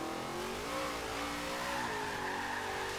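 A car drifts in Forza Horizon 3, its engine holding a steady high drone with tone rising and falling as the tires slide, continuous and fairly close, with no speech over it.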